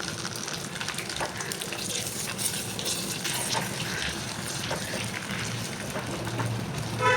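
Whole garam masala and two dried red chillies sizzling in hot oil for a dhaba-style kadai chicken, a dense rain-like crackle with steady hiss and small pops, close and constant.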